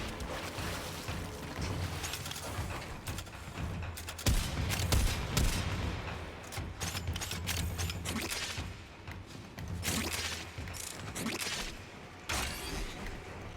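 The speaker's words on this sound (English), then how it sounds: "From a shotgun barrage to a cannon fire shot." Heavy gunfire from Warframe, a shotgun barrage and cannon shots in dense blasts and booming rapid bursts, loud and continuous with brief pauses between volleys.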